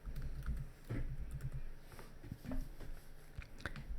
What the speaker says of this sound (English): So I'll just simply type in lawyer.